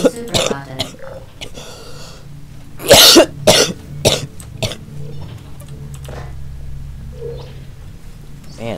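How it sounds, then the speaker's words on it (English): A man coughing several times in short, sharp bursts with throat clearing between them, close and fairly loud over a quiet game background hum, with a faint voice nearby. "Man, I'm still coughing."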